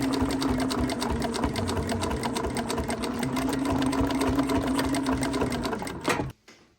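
A sewing machine runs steadily, stitching new canvas for an old camp chair, a continuous close whirring hum with rapid needle rhythm that stops abruptly near the end.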